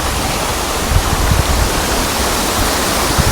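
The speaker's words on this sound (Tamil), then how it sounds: "தண்ணி கொட்டி சவுண்டு சவுண்டு கேட்குது உங்களுக்கு தண்ணி கொட்டுற சவுண்டை" Water pours and splashes continuously in a steady broadband rush in a Chinese garden in Singapore, close and fairly loud, with no voices.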